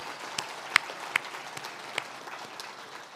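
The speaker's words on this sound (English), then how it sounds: "another round of applause" Audience at an awards gala clapping in a steady, even patter, with a few sharper individual claps popping out near the front and some faint crowd noise mixed in.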